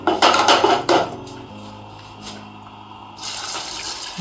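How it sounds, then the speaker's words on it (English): A pot of washed beans is set down on a stove with a couple of clanks of metal cookware and rattling, followed by quieter handling sounds in a kitchen. "So on a stove, I place my washed beans."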